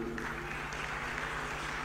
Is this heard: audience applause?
yes